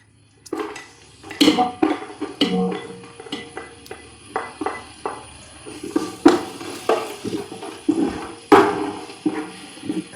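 Spices, curry leaves and finely chopped carrot are sautéed in a pot while a dum biryani is being made, giving repeated scraping and stirring clatters with a soft sizzle in bursts throughout, and no one speaks.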